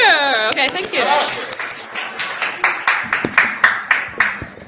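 An audience applauding to welcome a speaker at the Peekskill Community Congress, a community meeting: a burst of clapping builds and carries on steadily, with a voice speaking over the start and a few louder claps near the end.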